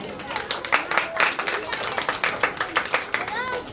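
Steady applause from a crowd at a school prize announcement, many hands clapping continuously at a lively pace with voices mixed in.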